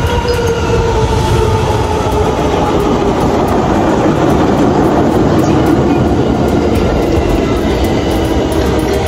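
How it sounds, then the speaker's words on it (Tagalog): A long train rumbles past close by in Japan, a steady loud roar of wheels and clattering rail cars with faint squeals, continuing throughout. "Ayan, pakita ko sa inyo ang tren."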